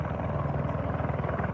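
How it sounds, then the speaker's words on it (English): A sheriff's helicopter circles overhead, its rotor chopping in a fast, steady rhythm; close and loud throughout, with no speech. "While sheriff's helicopters circle"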